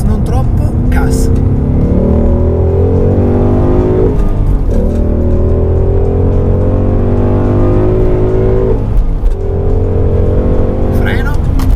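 Ford Mustang 5.0 V8 engine accelerating on a track, loud and close with rising revs through repeated gear shifts, a brief dip in pitch mid-way before climbing again, while someone speaks over it.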